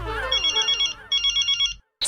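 A telephone rings in two quick bursts of trilling electronic tones, close and clear, then stops before a brief sound at the end.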